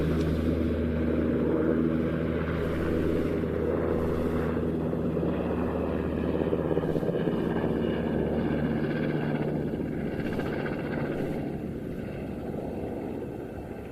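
NH Industries multi-role military helicopter flies past at an air show, a steady loud rotor and turbine drone that slowly fades toward the end.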